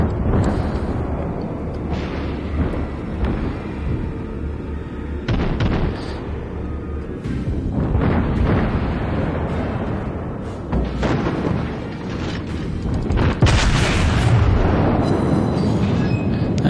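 Naval guns fire and shells strike in World of Warships, with repeated heavy booms and rumbling explosions rolling through a continuous battle din.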